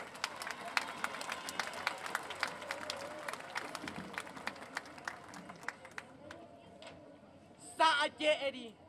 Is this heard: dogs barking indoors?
no